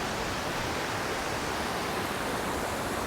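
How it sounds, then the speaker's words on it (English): Small waterfalls at Canada Creek Falls in Georgia give off a steady, broadband rush of falling water, close and continuous with no pauses and no voices. "You've got 1, 2, 3 small waterfalls."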